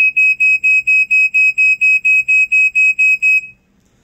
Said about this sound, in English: it does that classic 4/6 pulsating that pretty much all these did